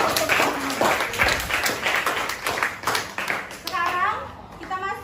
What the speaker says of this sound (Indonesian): Kita kasih tepuk tangan lagi dong.